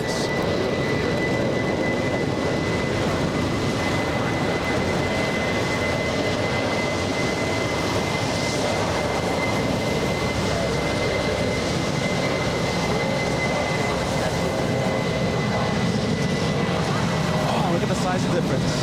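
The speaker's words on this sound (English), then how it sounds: "Hear the whistle. Hear the engines." Jet airliner engines roar steadily through a takeoff at LAX during a tropical storm, with a thin high whistle held over a broad, loud rumble and spray wash that stays constant throughout.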